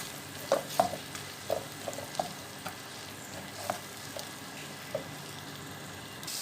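Keema with tomatoes is stirred in a frying pan, a soft sizzle under scattered spoon scrapes and clinks, fairly quiet, with no voices.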